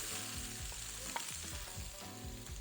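Onions hitting a hot frying pan for vegan enchiladas, giving a loud, steady sizzle that stays close and even throughout, with a few light clinks and stirring scrapes breaking through.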